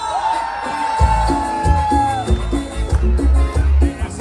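Crowd cheering and whooping at a town's 136th anniversary community celebration in Toledo, with loud bursts of rhythmic noise and a sustained whistle-like tone early on, the cheers rising and falling over a pounding festive background.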